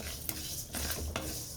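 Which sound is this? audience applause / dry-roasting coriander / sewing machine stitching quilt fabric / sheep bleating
dry-roasting coriander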